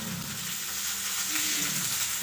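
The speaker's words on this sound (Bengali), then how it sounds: "আর এখানে এগুলো লঙ্কা ভাজা করছি" Green chilies frying with black mustard seeds in hot oil, a dense, even hiss of sizzling that holds steady throughout, close and moderately loud.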